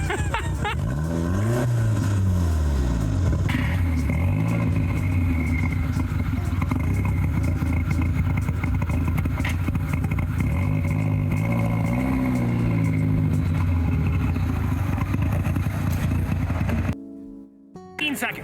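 A Porsche 944 fitted with a swapped-in Audi 1.8 engine idles roughly and unevenly up close, its low rumble wavering throughout with voices talking over it before it cuts out near the end.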